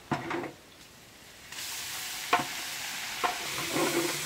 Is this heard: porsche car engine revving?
no